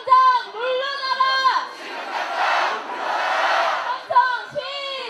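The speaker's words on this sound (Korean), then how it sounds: "함성" A protest crowd in Seoul calling for President Park Geun-hye's resignation lets out a loud, sustained roar, framed by chanted voices before and after the swell.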